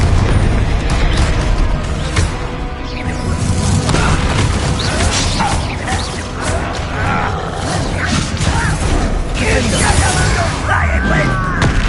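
Fiery spell blasts in Hogwarts Legacy burst over a dense, continuous din of combat, with booming crashes and debris landing close and loud while voices call out through the fighting.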